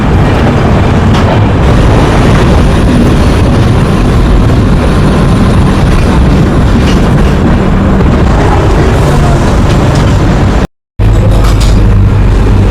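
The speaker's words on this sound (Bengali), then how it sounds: "এই যে পদাতিক এক্সপ্রেস শান্তিং হচ্ছে।" Padatik Express shunting, a loud continuous rumble of train movement with low mechanical drone and rolling noise filling the whole stretch, broken by a brief gap near the end.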